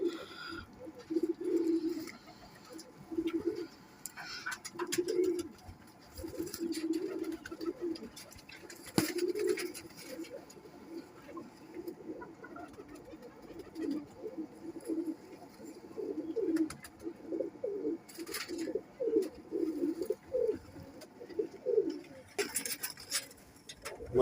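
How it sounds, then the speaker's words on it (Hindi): Kamagar golden pigeons coo in repeated soft, low, throaty phrases at close range, a steady rhythmic series with light background rustling. "कैसे प्यारे कांटों वाले कबूतर हैं"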